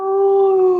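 A puppy gives one steady, sustained howl, close and fairly loud, holding a single drawn-out pitch without a break.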